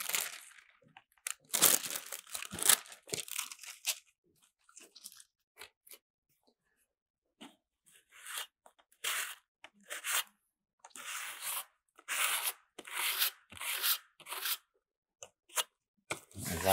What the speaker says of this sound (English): let me get a piece of tissue paper here